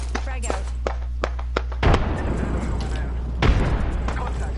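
Grenades exploding in a multiplayer shooter video game: two heavy booming blasts a couple of seconds apart, set against a low background rumble and faint game noise.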